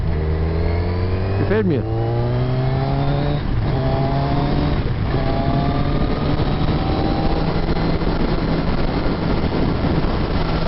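A Kawasaki Z1000R motorcycle's aftermarket exhaust gives a deep, muffled engine note, loud and near, revving up and down through gear changes while riding, with a voice speaking briefly over it.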